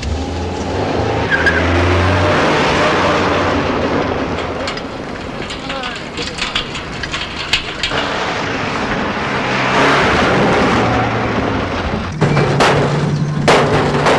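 A car drives fast with a sustained engine roar and tire noise, briefly skidding, as people talk over it from inside the vehicle.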